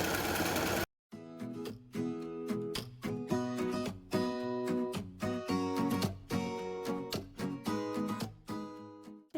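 A sewing machine stitching along a length of fabric drawstring for a pressure garment, a rhythmic mechanical whirring and clatter that runs in short bursts with brief pauses, close and clear, no talking.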